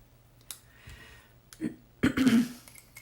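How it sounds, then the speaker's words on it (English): A person with allergies clears their throat a couple of times, short rough bursts up close, with a few small clicks before. "keep clearing my throat"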